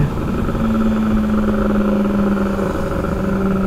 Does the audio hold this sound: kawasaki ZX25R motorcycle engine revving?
yes